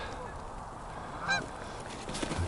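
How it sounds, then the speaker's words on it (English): Geese honk in a short burst midway, a few nasal calls over steady outdoor background noise, moderately distant. "Geese are all coupled up, they're ready."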